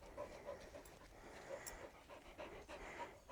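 A big dog pants steadily on a misty, overcast winter countryside walk, its quick breaths close and continuous over faint outdoor ambience.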